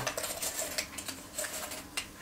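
A metal spoon clinks and scrapes against a bowl while a tablespoon of sugar is added to a yeast and water mixture, a quick run of light, close taps and rattles.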